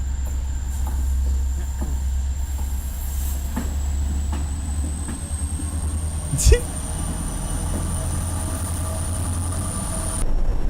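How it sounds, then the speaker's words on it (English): A train rumbles steadily with low mechanical drone and a thin high whine, a sharp clank midway, as it moves off at a distance. "That's the sound of the train rolling off into the distance."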